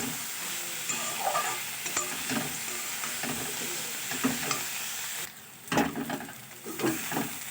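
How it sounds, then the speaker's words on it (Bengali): Radish greens with fried bori and peanuts are stirred in a frying pan, a spatula scraping in repeated strokes over a continuous close sizzle, with no one speaking. "আবারও সব কিছু খুব ভালো করে মিশিয়ে নেব।"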